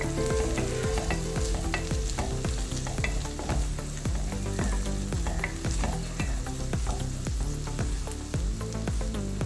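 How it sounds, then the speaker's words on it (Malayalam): Chopped ginger and halved garlic cloves sauté in a hot pan with oil, sizzling steadily and loudly while a utensil stirs in repeated scraping strokes; no one speaks. "നന്നായിട്ട് വഴറ്റാം"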